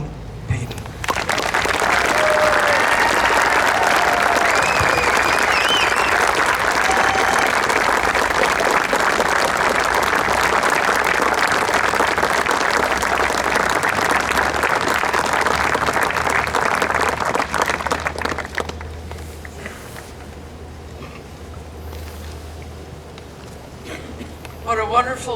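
Loud, sustained applause from a large crowd greets Joan Payden at the Payden Field dedication, filling the space for about eighteen seconds before fading into quieter room noise.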